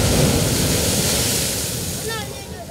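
Surf rolls in along the eroding coast at Rufisque near Dakar, where the advancing sea has swallowed dozens of houses: a steady, loud, broad roar of breaking waves that eases slightly toward the end.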